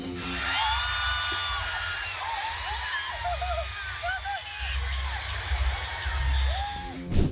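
Fans at a concert in Taiwan scream and cheer continuously, a dense roar of high shrieks and whoops from a large crowd that swells toward the end.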